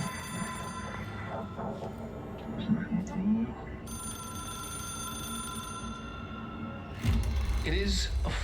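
A telephone rings in the video game Control with sustained electronic tones that hold for several seconds, layered with a game soundscape and occasional speech.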